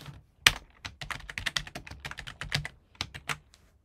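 Rapid, uneven keystrokes on a computer keyboard sharing input over a network, close and clear, with brief pauses between bursts and no talking.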